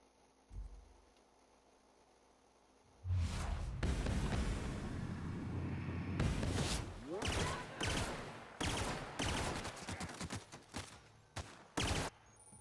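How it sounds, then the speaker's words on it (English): Sustained machine gun fire in the video game The Outer Worlds, loud, dense bursts of rapid shots running for about nine seconds after a brief quiet opening, with short gaps between volleys. "Machine gun."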